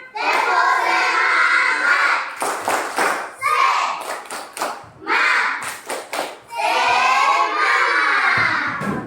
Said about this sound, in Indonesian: Kalau masih semangat, berikan tepuk semangat.